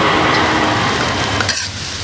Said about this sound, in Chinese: 来炒一下，烤香啊